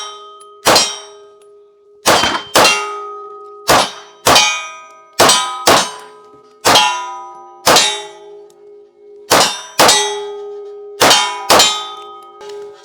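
Shots from a Smith & Wesson carry comp pistol strike steel targets, producing a dozen sharp metallic clangs with ringing tails, irregularly spaced and loud, with no talk.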